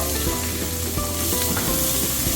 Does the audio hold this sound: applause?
no